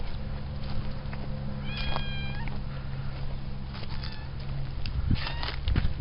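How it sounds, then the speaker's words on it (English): A cat meows a few times outdoors in a cold rural field, with harmonic cries rising mid-clip and again near the end over a steady low background hum and light rustling. "that cat has got natural camouflage"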